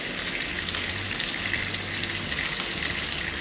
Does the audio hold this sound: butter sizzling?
yes